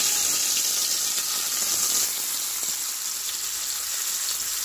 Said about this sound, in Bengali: এখন মাছ দিয়ে দেবো একটা একটা করে।